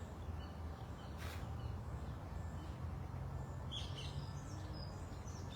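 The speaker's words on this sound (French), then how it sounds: "Vous entendez les oiseaux" Birds chirp and sing outdoors during a yoga session, faint and scattered high calls over a steady low background hum, with no talking.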